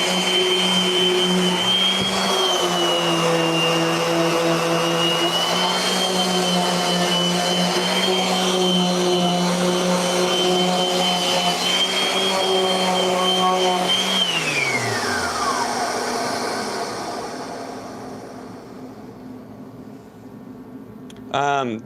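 Orbital sander hooked to a vacuum extraction system, sanding a boxy handcrafted skateboard deck in a workshop: a steady, loud whirring drone that holds for about fourteen seconds, then winds down and fades away.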